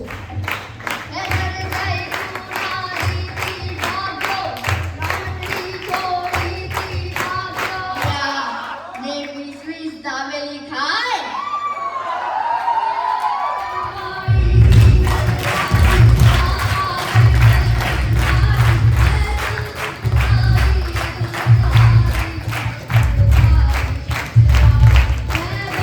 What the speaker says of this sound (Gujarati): દૈવિક માટે એકવાર જોરદાર તાળીઓ થઈ જાય